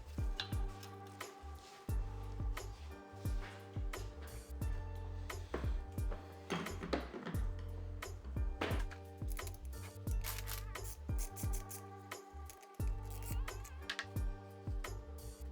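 A ratchet with a 3/4 deep socket turns out the spark plug of a Ryobi CS26 string trimmer, giving close, rapid bursts of sharp clicking with short pauses between strokes.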